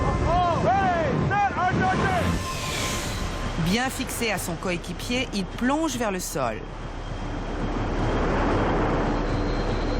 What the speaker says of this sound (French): Le vent souffle à un volume assourdissant.